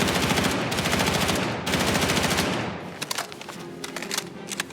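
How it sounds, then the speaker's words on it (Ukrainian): Standard-issue automatic rifle firing in the video game Battlefield 6, a long continuous burst of rapid shots, then a pause and a second sustained burst, followed by scattered cracks and echoing tails. "От вам стандартна зброя, яка нам видається в той самий Battlefield 6, і як себе вона поводить"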